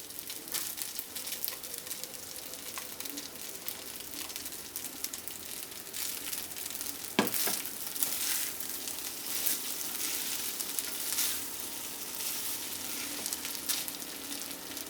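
Chicken and egg fry in a pan for mixed fried rice, a continuous crackling sizzle with scraping stirs and one sharp clatter partway through, close but fairly quiet, with no voices.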